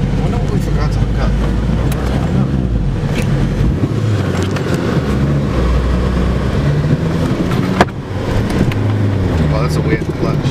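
A K24-swapped car drives with a loud, continuous low engine drone from inside the cabin, steady throughout with a brief dip near the end, and people talk over it.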